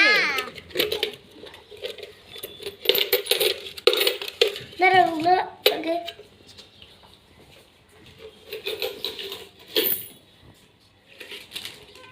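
Coins clinking and dropping into a child's piggy bank on Eid, several small metallic rattles and taps amid lively children's chatter and laughter.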